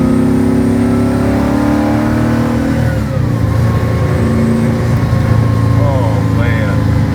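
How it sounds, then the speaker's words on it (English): A supercharged 1957 Chevy with a 600 hp engine revs hard, then drops through a knockdown gear shift. Its engine tone falls and climbs again, close and loud, as voices talk over it. "Nice little knockdown shift there."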